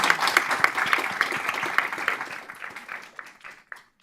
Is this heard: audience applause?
yes